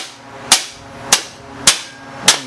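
A hammer taps a bolt through a stacked automotive leaf spring assembly, four sharp metallic strikes evenly spaced about half a second apart, close and loud with no talking.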